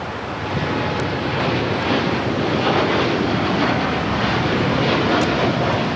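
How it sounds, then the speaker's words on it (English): A Boeing 787-9 Dreamliner bound for Tokyo Haneda at LAX produces a loud, continuous engine roar, close and dense, with no voices. "Flight 15 heading back to Tokyo Haneda, 787-9 Dreamliner."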